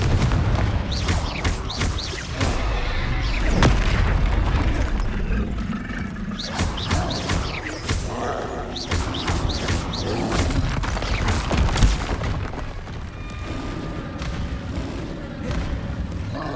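Repeated blasts from Confringo fire spells in the Hogwarts Legacy video game, heavy booming explosions going off one after another amid dense, chaotic combat noise, loud and close throughout.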